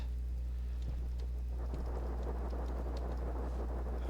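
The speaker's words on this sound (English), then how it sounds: "There's actually a storm going on," Storm on Venus in the game Stationeers: steady rain hiss over a constant low hum, with a soft rumble of thunder rising midway and the downpour thickening afterward.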